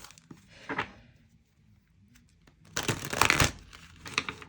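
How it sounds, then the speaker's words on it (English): Tarot cards being shuffled by hand, two bursts of crisp riffling and flapping: a short one early, then a longer, louder run near the end with a few soft taps, no talking. "Maybe I should shuffle elsewhere."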